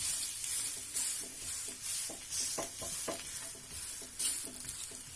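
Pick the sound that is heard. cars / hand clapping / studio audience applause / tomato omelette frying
tomato omelette frying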